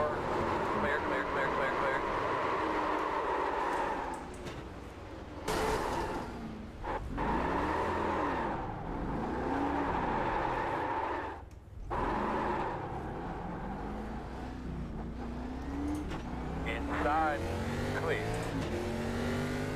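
NASCAR race cars in the iRacing video game at USA: steady engine drone with rising and falling revs and passing cars, a few sharp dips as cars go by, while someone talks over it throughout.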